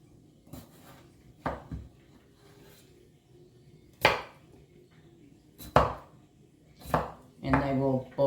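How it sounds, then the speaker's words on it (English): A knife chops through scrubbed, unpeeled potatoes on a cutting board in a home kitchen, landing as sparse, sharp individual cuts with pauses between them, the last few strokes coming closer together. "I'm going to cut them up just like I do whenever I'm boiling them for my potato salad."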